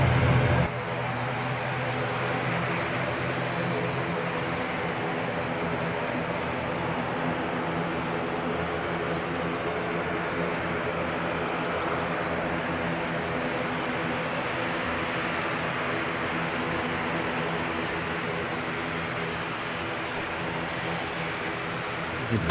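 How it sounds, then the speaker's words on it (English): An Air New Zealand ATR turboprop airliner at Christchurch Airport, its engines giving a loud, steady, droning roar that holds unbroken for over twenty seconds and stays close, with a faint voice now and then. "Aircraft number 31 in the ATR fleet for Air New Zealand"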